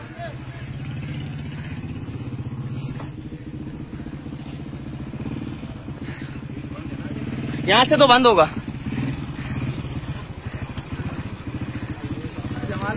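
A motorcycle engine idles steadily through the whole stretch, a low throbbing drone beneath people talking outdoors, with a brief louder clatter partway through.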